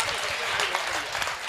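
Audience applause at a Hindi poetry gathering, a kavi sammelan, with dense steady clapping from a crowd, close and sustained through the clip.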